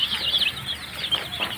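Broiler chicks in a roomy summer brooder cheep and peep in quick, high overlapping chirps, close and moderately loud, with a soft rustle of movement underneath.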